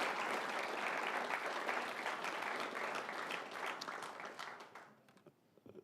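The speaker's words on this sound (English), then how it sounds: "Please give Grant another big round of applause." A lecture audience applauds steadily, a dense wash of many hands clapping that carries on for several seconds before thinning out and fading near the end.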